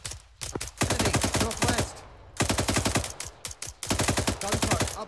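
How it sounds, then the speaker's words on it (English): Rapid bursts of automatic gunfire in the video game ArmA 3, loud and close, in several long volleys separated by short pauses. "Gunfire, up high, 288."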